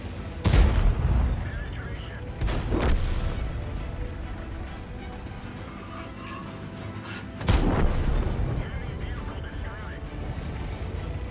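Tank cannon shots in World of Tanks: a few heavy booming blasts, two close together early and one more later, each trailing into a rumble, with someone talking between them.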